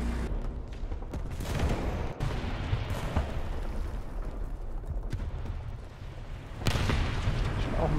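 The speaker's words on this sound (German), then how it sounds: "das ist ja eine Pershing-Kanone" Pershing tank cannon fire in War Thunder arcade battle, heavy booming gunfire with dense rumbling battle noise throughout and a fresh loud blast near the end, no talk over it.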